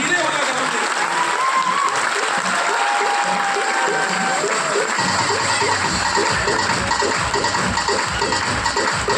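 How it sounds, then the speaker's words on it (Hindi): A seminar hall audience claps loudly and continuously, the dense clapping growing sharper and more distinct partway through, with a voice faintly beneath. "ताली जोर से बजाओ यार"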